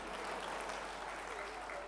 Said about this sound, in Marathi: टाळ्या वाजवल्या तरी चालतील.